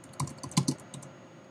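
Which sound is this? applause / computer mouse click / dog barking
computer mouse click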